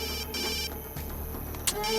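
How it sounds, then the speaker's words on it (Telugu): A phone rings with an electronic ringtone, its repeating tones pulsing close and clear across the short stretch, with no one speaking over it. "మా అన్నయ్య ఫోన్ చేస్తున్నాడు"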